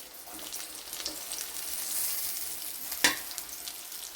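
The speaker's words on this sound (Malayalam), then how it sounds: "ഫിഷെല്ലാം മറിച്ചിട്ടിട്ടുണ്ട് ഇനി ആ ഭാഗം കൂടി ഒന്ന് ഫ്രൈ ആയിക്കോട്ടെ" Fish frying in hot oil after being flipped, part of a Thalassery-style dish: a soft, even sizzle with faint spatters and one sharper pop, fairly quiet and steady, with no voices.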